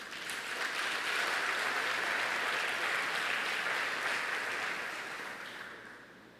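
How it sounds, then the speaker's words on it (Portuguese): A church congregation applauds in a sustained, dense wash of clapping that swells, holds steady and then slowly fades, heard from some distance. "Você pode aplaudir ao Senhor mais uma vez?"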